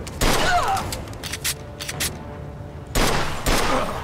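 A gunfight in Mafia II, set in a distillery, brings two loud rapid bursts of gunfire with a scatter of single shots and thuds between them, heard fairly close.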